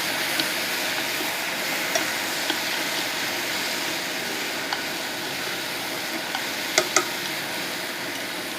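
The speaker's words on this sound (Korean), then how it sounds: "그래서 조금 더 볶아보도록 할게요." Garlic stir-fries in a pan with a continuous soft sizzle and faint scraping, a few small clicks and taps of a utensil scattered through it, heard alone at moderate distance.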